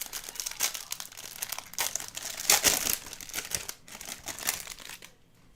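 Wrappers of Bowman Jumbo baseball card packs crinkle and crackle as they are torn open, a close, busy stream of crisp rustles with louder crunching bursts that fades out at the end.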